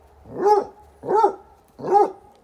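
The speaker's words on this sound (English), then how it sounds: "Ginny barking at Winslow" Three loud dog barks in a steady rhythm, each a deep, full woof about a second apart, close by with no talking.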